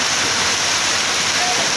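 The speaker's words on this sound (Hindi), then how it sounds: "बहुत ज़ोरों से बरसात हो रही है हमारे श्री कॉलेज में।" Heavy monsoon downpour over Shri Kolayat, a steady, dense roaring hiss of rain with no breaks, close and loud throughout.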